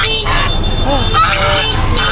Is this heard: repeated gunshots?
no